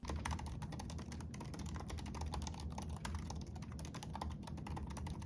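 Steady, dense keystrokes on a MacBook Pro M2 Pro laptop keyboard, a fast run of close clicks with no pauses during a typing test, heard alone and fairly quiet.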